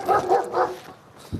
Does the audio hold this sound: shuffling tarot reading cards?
no